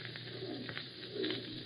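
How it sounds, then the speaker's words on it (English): A screech owl calls in an old-time radio horror drama, a soft hooting call heard twice over a steady hiss of background noise, close and fairly faint with no talk over it. "that was just an old screech owl. There it is again."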